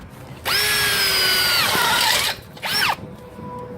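A power drill re-drilling an existing hole during a door replacement whines at high speed for about two seconds, drops in pitch under load, then gives a second short burst.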